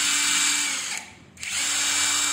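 A J-LD Tool 48S cordless impact wrench spins to loosen a bolt, a close, loud, steady motor whine that briefly winds down, pauses and spins up again.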